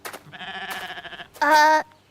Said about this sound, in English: Was that The goat.